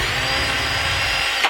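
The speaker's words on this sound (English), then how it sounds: "I'm going to drill a hole using a wood bit" A power drill whines steadily while boring into wood, close and loud, stopping abruptly at the end.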